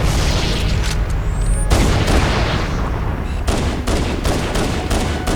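A grenade blast and bursts of rapid gunfire from the Halo: Combat Evolved video game, loud and continuous, with sharp booms cutting through dense, repeated weapon fire.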